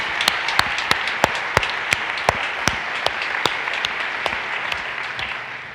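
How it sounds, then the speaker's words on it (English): Conference audience applauding the organizers at a GraphQL Summit opening keynote, with a dense bed of clapping and distinct sharp nearby claps punctuating it at a steady pace, easing off slightly toward the end. "let's give them a round of applause and thank them for their hard work putting this together."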